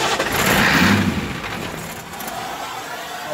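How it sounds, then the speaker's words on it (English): An engine with stubborn glow plugs cranks over to start, swelling into a loud broadband churn in the first second, then easing into a steady rough rumble nearby. "And then you crank her over."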